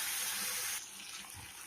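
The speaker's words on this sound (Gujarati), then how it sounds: "હવે આપણે એમાં નાખીશું પાણી" Water is poured into masala idli batter seasoned with sambar masala, making a brief, soft splashing rush that cuts off after under a second, leaving quiet.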